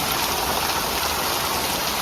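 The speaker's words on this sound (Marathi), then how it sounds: "बाहेर ना पाऊस पण भरपूर पडतं." Heavy monsoon rain pours down outside a village home, a dense, steady hiss with no breaks, fairly loud and unbroken throughout.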